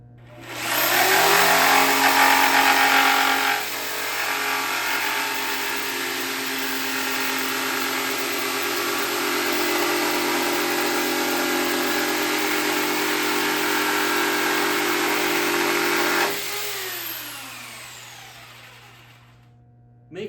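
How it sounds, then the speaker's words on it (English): A corded jigsaw running at full trigger and cutting through a workpiece, a loud steady buzzing whine that holds for about fifteen seconds before the motor winds down and fades. "we're going to have both hands on our jigsaw"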